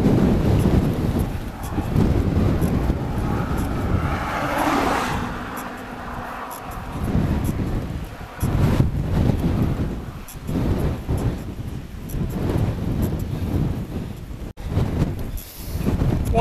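Strong wind buffeting a cyclist crossing Shap on a hill road in June, a loud continuous roar and rumble with gusty surges throughout, no voices.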